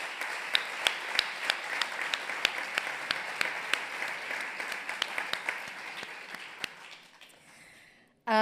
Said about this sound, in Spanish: Dedicamos un aplauso, por favor, a todos ellos.